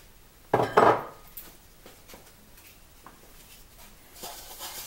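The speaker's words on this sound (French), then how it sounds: "On ajoute les 250 g de sucre." Sugar added to water in a saucepan while poaching apples for tarte tatin: a loud close pouring rush lasting about half a second, then light clinks and handling of kitchenware.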